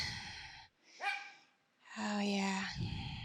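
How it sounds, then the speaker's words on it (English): A household dog gives a couple of barks at moderate distance, with soft breathy sounds and a short gap of quiet between them. "I'm gonna have to end it here because Buddy is barking"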